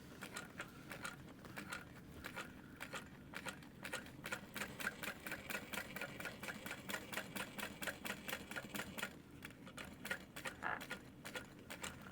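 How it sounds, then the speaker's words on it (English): A sewing machine stitching a Sarah Bag sewn as a backpack, running in a steady rapid rhythm of close mechanical ticks that holds through most of the stretch, with slight pauses and pace changes. "I'm gonna do 2 rows of stitching."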